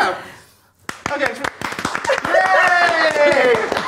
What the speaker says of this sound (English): It always needs an applause.